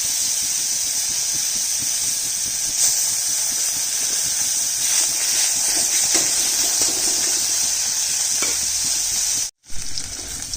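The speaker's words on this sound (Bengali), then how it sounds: "প্রথমেই দিয়ে দিচ্ছি পেঁয়াজ বাটা আর রসুন বাটাটা" Onion and garlic paste fries in hot oil with a dried red chilli, bay leaf and cumin, making a loud, steady sizzle and hiss with occasional stirring scrapes throughout, then a brief dropout near the end.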